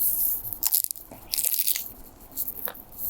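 Crunchy ropis rangup with a Nutella topping and banana is bitten and chewed close up, producing several sharp, crisp crunches in irregular bursts.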